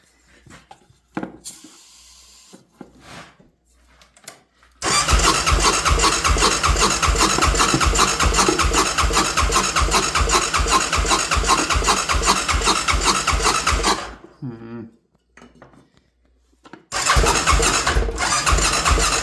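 A Honda Rincon ATV engine, primed with starter fluid sprayed into the carburetor, cranks loud and close in a long rapid chugging burst of about nine seconds. A few short clatters come before it, and a brief second cranking run follows a pause.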